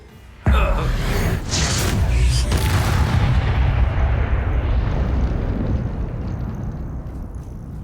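A Bombarda spell bursts in a Hogwarts Legacy duel: one sudden, loud, booming explosion that hits hard and then rolls into a long, dense rumble that fades slowly.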